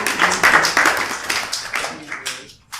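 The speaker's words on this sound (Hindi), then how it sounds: "ताली बजाओ सब इसके लिए" A small group of people claps on request in a brief, uneven burst of hand claps, close by and fading toward the end with a last single clap.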